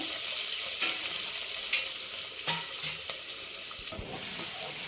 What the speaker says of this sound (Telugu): వేగనిద్దాం బాగా